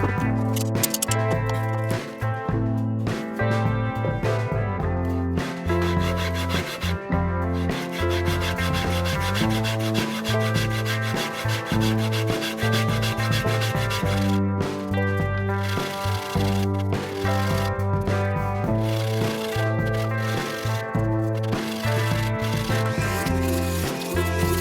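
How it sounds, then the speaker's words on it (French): A wooden guitar neck scarf joint clamped to a workbench being sanded smooth, with continuous rhythmic rubbing strokes, close and fairly loud, over a steady tonal hum in the background. "je vais maintenant fixer le manche sur mon établi et on va commencer le ponçage"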